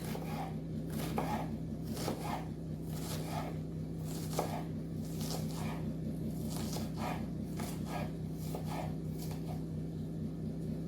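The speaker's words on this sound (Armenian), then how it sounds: "կտրատենք սոխը նաև" A knife chops onion on a cutting board for a grilled eggplant and pepper salad, tapping in a steady, fairly quick rhythm over a constant low hum.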